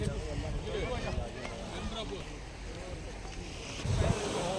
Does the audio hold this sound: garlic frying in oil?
no